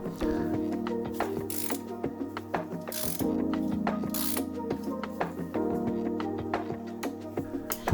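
Ratchet loosening the clamp bolts on the fork of a BMW 1150 GS motorcycle, heard as close, rapid clicking pawl bursts with rhythmic metallic ticks and short pauses, repeating throughout, no talking.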